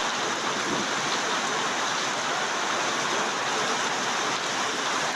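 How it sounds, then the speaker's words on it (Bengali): A steady, close roar of heavy rain falls at Mirpur bus stand, a thick unbroken wash of water noise that holds at the same level throughout. "আল্লাহর রহমতের বৃষ্টি হচ্ছে আমাদের মিরপুর বাস স্ট্যান্ডে"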